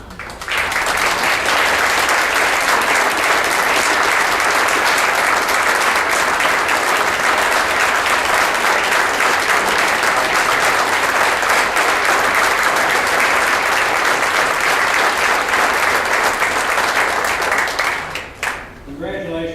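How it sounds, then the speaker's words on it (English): Banquet audience at a university alumni spring reunion gives the undergraduates a sustained round of loud, dense applause that fills the room, dropping off briefly just before the end. "wouldn't you like to see all these undergraduates stand and get another round of great applause?"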